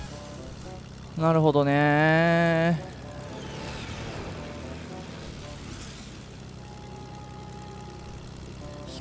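A propeller airplane engine drones low and steady in the Fortnite video game, running throughout under a loud harmonic honk early on, while a player talks over it.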